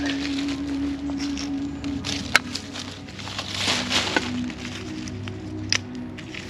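An old, thick fragment of pressed glass, the bottom of a piece found during a bottle hunt near a creek in Cartersville, Georgia, gives a few faint, scattered clinks and small scrapes over a quiet, steady outdoor background.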